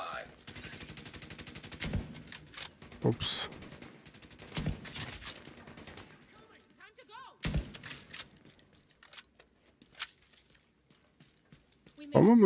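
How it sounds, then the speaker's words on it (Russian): Gunfire in The Division 2 video game, several sharp bursts and single shots spread across the span at moderate level, separated by quieter gaps. "Эта пушка начала нормально стрелять"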